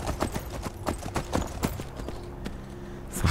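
Horse hooves clip-clop at a steady trot while riding in Skyrim, a regular close rhythm of hoofbeats that fades slightly toward the end, with no talking.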